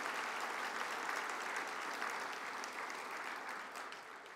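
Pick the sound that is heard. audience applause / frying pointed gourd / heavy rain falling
audience applause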